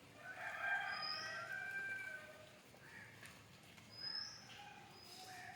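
Free-range country chickens clucking around a coop as it is opened, with a rooster crowing faintly in the distance several times; soft, fairly far-off calls with no talk.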